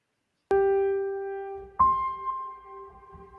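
The ambient song begins with a clear struck tone that rings and slowly decays, then a second softer note enters, with quiet low rumbles underneath.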